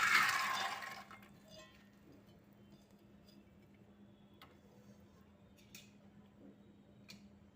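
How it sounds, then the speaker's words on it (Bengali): Soaked red chickpeas are washed in water. A loud splashing rush of water lasts about a second, then gives way to faint, sparse drips and small clicks in a quiet room. "এবার ভালো করে ধুয়ে কুকারে দিয়ে দিচ্ছি।"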